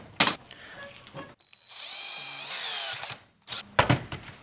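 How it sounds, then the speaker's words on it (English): A power drill boring a hole in a clamped dagger workpiece, one steady whining run of about a second and a half with short handling knocks and clatter before and after. "I'll drill my hole first."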